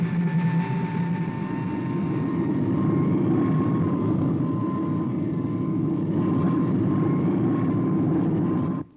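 Supercar, the flying craft from the TV puppet series, in horizontal flight: a steady, loud engine drone with a high whine, continuous and alone for about nine seconds before cutting off.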